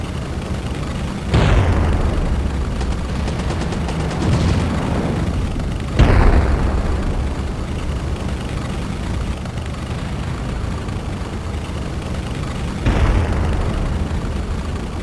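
Flak gunfire and explosions in the fighter pilot simulation game War Dogs, three loud booming blasts spaced several seconds apart over a constant roaring engine drone, with a rattle of gunfire early on.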